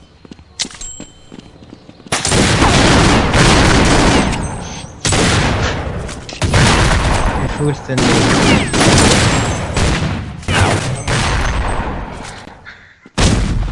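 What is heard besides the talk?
gunfire in the video game Counter Strike Nexon Zombie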